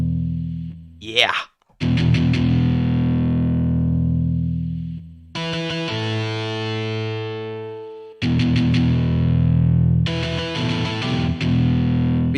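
Palm-muted electric guitar played through the default preset of the Cali Dual amp simulation in Cubasis gives thick, distorted chugging chords, with sustained ringing passages broken by short gaps and restarts, loud and close with no talking.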